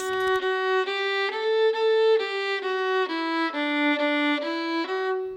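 A beginner plays the violin in a plain sequence of bowed notes, each held briefly with a thin, steady tone and little expression, close and alone without any talking.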